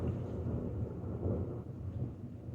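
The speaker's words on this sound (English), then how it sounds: "you hear this is storming, the thunder" Thunder rumbles low and continuous through a heavy rainstorm, a deep rolling roar with steady rain hiss and no voices.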